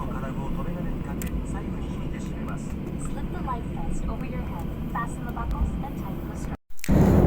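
A domestic passenger airplane taxiing on the runway, heard from a window seat as a steady loud cabin engine rumble and whine that cuts off abruptly near the end.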